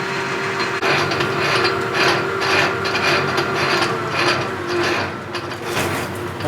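Metal lathe making steady cutting passes while building a rigid compound replacement: a continuous mechanical whir with a sustained tonal hum and faint gritty scraping, moderately loud and close, without talk.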